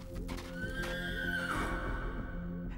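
A horse neighs with a loud, rising-then-falling whinny that fills the clip, set near, with faint hoof clatter beneath and no talking.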